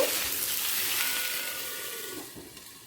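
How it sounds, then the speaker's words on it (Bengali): Potatoes with capsicum, tomato and green chili simmering over a low flame, giving a soft, steady sizzle and bubbling that eases slightly toward the end, with a faint stir or clink near the close. "টমেটো আর কাঁচা লঙ্কা দুটোটাই আলুর সাথে একবার মিশিয়ে নিয়ে আবারও লো ফ্লেমে সেদ্ধ হতে দেব"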